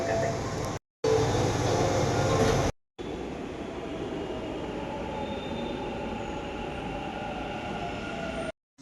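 A metro train rumbles along continuously with a steady rolling roar, broken by a couple of brief cuts, with faint squealing wheels and no talk.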